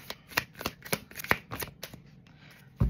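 Tarot cards shuffled close up in a quick run of crisp riffling bursts, roughly eight in a row, then a pause and a final soft knock as the deck settles.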